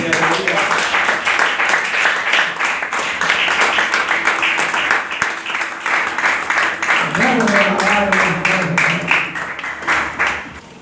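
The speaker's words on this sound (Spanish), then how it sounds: "Denle aplauso al Señor." Congregation applauding inside a church, loud sustained clapping from many people, with voices and shouts rising over it partway through.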